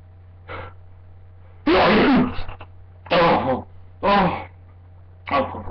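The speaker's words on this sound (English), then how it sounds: "that is a sneeze and a half" Several loud, explosive human sneezes burst out one after another, with a short fainter one early on and another at the end, over a steady low background hum.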